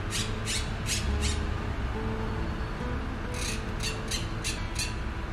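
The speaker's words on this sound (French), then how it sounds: "on entend des hordes de perruches vertes qui ont un bruit assez significatif" Two bursts of harsh, rhythmic squawks from a flock of green parakeets in Barcelona, about four or five calls each, over a dense, noisy outdoor background.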